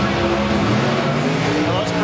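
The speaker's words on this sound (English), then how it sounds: "Those Pro Box sportsman cars are loud" Pro Stock sportsman drag race cars roar loudly and continuously at a big drag-racing event, a dense, unbroken engine blare with a voice partly buried beneath it.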